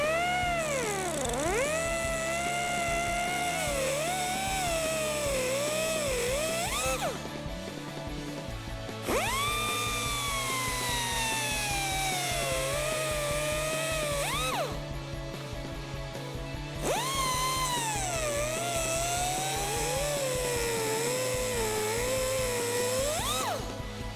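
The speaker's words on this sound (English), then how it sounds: "we're going to cut down a little bit right where the threads start" A power tool cuts down threaded front wheel studs on a 2007-2018 Chevrolet Silverado or GMC Sierra during a leveling kit install, giving a loud, steady, wavering high whine that runs in three long passes with short dips between them.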